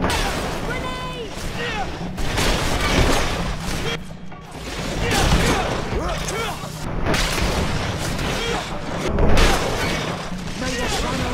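Grenade blasts and gunfire in the fantasy video game GreedFall: repeated loud booms and crashing impacts during a chaotic battle, with shouting voices over the combat.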